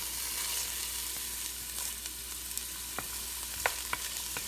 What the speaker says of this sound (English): Give those a little stir.